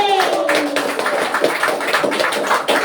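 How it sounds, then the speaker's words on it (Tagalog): Group applause for a professor at a sports team's training kickoff, steady dense clapping from a nearby crowd, with a brief voice at the start. "Palakpakan natin si Prof."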